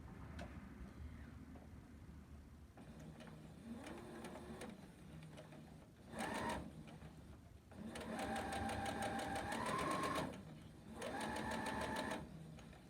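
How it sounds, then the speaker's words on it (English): A sewing machine stitches a quilt along a marked line, its fast mechanical whir running in several bursts of a few seconds each, separated by brief pauses, close up in a quiet room. "we're going to stitch right on that line"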